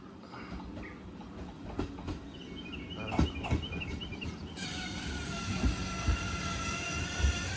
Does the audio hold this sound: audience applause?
no